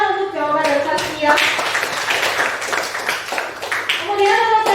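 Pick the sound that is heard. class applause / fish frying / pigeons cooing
class applause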